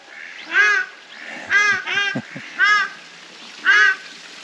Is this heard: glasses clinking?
no